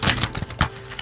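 Thick, glossy playing cards from a new artist deck are riffled and shuffled in quick, close, crisp bursts of flicking paper with no talk.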